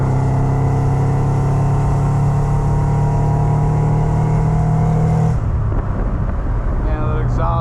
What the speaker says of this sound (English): that exhaust just sounds so good